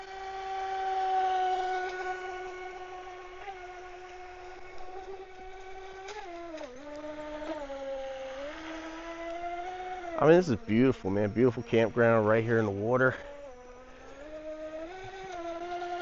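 DEERC RC boat motor running on the water at a campground, a high whining buzz that holds steady, then bursts into rapid pitch swings as the boat speeds and turns, heard under someone talking.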